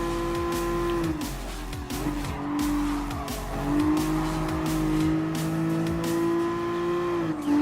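A Nissan 350Z drifts through a race in Gran Turismo Sport, its engine droning steadily with pitch swings and repeated tire squeals as it slides, loud and continuous with no talking.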